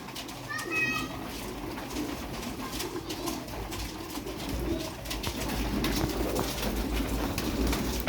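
Sialkoti Ali-wala breeder pigeons coo softly in low, throaty calls against a busy outdoor background, while people, including children, talk throughout.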